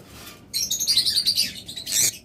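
Pet birds from a breeding pair offered for sale chirp and twitter in a quick, close burst of high calls, pause briefly, and end with another bright chirp.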